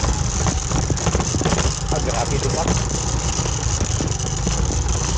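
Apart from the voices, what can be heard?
motorcycle engine running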